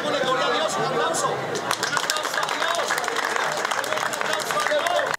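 A street crowd of foreigners and mothers with children gathered at a pastor's raw chicken handout applauds amid loud, continuous chatter and hubbub, with steady clapping blended into the dense crowd noise throughout.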